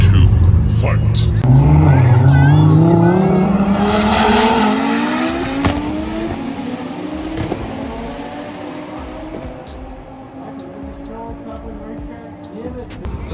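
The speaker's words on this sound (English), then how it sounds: "This is a drag car? You drag racing this thing?" A loud Dodge Viper drag car engine, built to about 2000 horsepower, screams close by, its pitch sweeping up through gears, with a steady roar and tire noise throughout.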